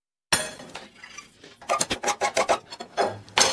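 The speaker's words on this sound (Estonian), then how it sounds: "See on viil kuskilt eelmise sajandi. 80-ndatest, eks?" An old metal file from the 1980s rasps across a workpiece after a moment of silence, giving a series of short, scratchy, close strokes in an uneven rhythm that speeds up toward the end.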